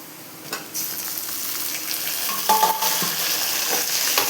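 Tomatoes frying in a pan for a bitter gourd tamarind curry: a bright, steady sizzle that swells after a thump near the start, with faint stirring scrapes.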